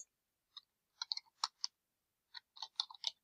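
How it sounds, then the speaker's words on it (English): Someone types a URL on a computer keyboard, producing quiet, close clicks in short irregular clusters separated by brief silent gaps. "When typing the URL, be sure to omit the HTTP or HTTPS."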